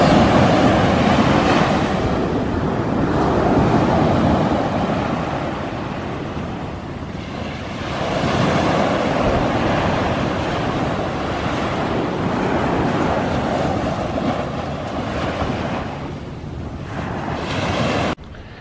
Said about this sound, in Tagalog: tignan nyo yung alon ng lalakas